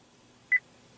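A single short electronic beep from a 2015 Acura TLX navigation voice-command system, clean and mid-pitched, sounds once against a quiet background.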